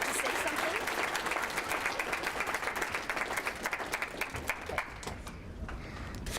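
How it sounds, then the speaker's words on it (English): An audience claps steadily at a gala, a dense wash of applause that holds for several seconds before thinning out toward the end. "Let's give her a round of applause."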